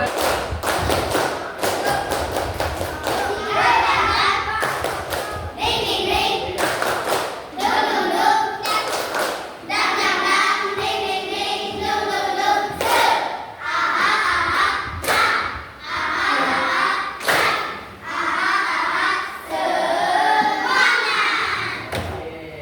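Many small hands of schoolchildren clap together in a quick, steady rhythm in a classroom, loud and close, with a few scattered voices mixed in.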